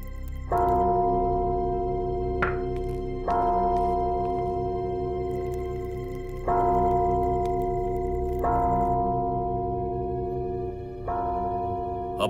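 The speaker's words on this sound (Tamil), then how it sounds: "இது ஆபத்து நேரத்துல ஒலிக்கிற எச்சரிக்கை ஒலி." A deep resonant alarm bell tolls at night in an old kingdom palace setting, struck about five times at slow uneven intervals, each stroke ringing out loud and sustained over a low rumbling bed.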